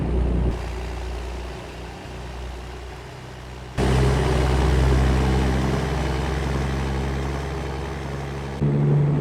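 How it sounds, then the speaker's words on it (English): Caterpillar C15 truck engine in American Truck Simulator: a deep, steady diesel rumble with a low drone, stepping up louder partway through as the throttle opens and holding there at a constant pace. "Can we just appreciate the sounds of this beautiful C15 engine?"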